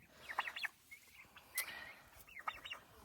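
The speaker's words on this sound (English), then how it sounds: "these sweet little turkeys down here" Turkeys gobble in a few rapid, warbling bursts, fairly faint and slightly distant, with short gaps between calls over a steady outdoor background hiss.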